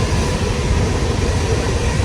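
A general-class passenger train pulls into Abu Road station, its loud, dense rumble rolling on without a break, close and unbroken by any voices.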